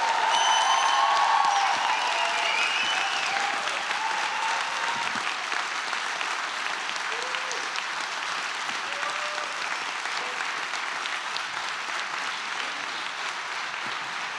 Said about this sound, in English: I would like you to clap, to applaud, to give him an applaud.